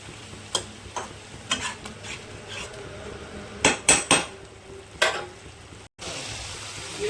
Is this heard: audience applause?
no